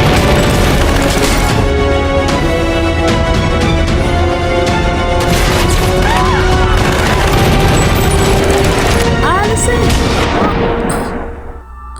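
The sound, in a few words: gunfire during a robbery and police chase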